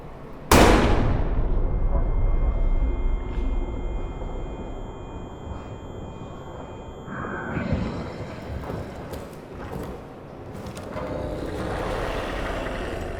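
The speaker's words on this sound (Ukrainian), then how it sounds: "А як смачно нашого героя заглушає під час пострілів у цих замкнутих коридорах бункера?" A single sharp revolver shot booms in the closed corridors of the Amnesia: The Bunker video game, followed by a long muffled ringing decay, then quieter clattering and rumbling game sounds.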